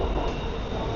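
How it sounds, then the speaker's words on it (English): A BTS SkyTrain in Bangkok, Thailand, pulls into the station on a Sunday evening, giving a loud, steady rumble of wheels on rail with a high metallic squeal held throughout. "I guess the train's coming. Yep, here it is."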